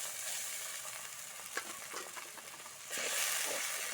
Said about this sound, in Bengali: জল দিয়ে কিন্তু কষিয়ে নিতে হবে